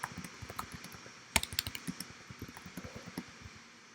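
Rapid keystrokes clatter on a computer keyboard during a document-editing session, an irregular run of close, light clicks with a brief louder burst midway, no talking.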